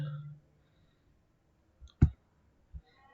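A computer mouse clicks a few times, sparse and sharp, with one louder click standing out amid near silence.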